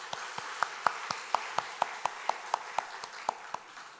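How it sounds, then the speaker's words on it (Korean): A church congregation gives a round of thanks, its faint, distant claps falling in a steady, even rhythm at about four per second across the whole stretch. "우리 함께 해주신 하나님께 감사의 박수를 올려드리겠습니다."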